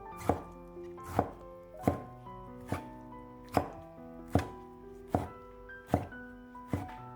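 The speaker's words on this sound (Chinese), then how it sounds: "先将西红柿切成厚一点的薄片" A knife slices a tomato into thick slices on a cutting board: about nine crisp, evenly spaced chops, close and clear, over soft background music, with no talking.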